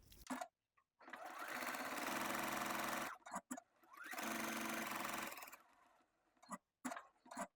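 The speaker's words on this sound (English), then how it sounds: "Sew along the open edge." A sewing machine stitches along the open edge of fabric pieces, placed right sides together, for a makeup bag, running in two steady, close, loud bursts with short pauses and scattered handling clicks between them.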